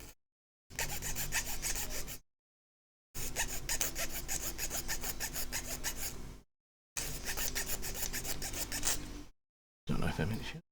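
A hand file rasps against a workpiece in close, steady back-and-forth strokes, grouped into four bursts separated by brief silences, loud and gritty, with no voices.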